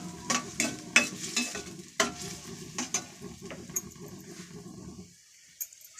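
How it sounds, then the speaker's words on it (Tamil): Egg parotta mixture sautéed in a pan, rhythmic scraping strokes of a spatula over a soft sizzle, then the stirring stops and near silence follows. "நல்லா வதக்கிக்கிறோம்."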